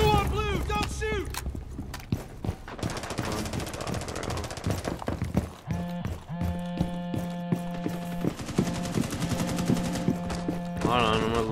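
Video game gunfire: repeated sharp shots and bursts crackle throughout, mixed with tonal game sounds and music-like hums, steady and fairly loud.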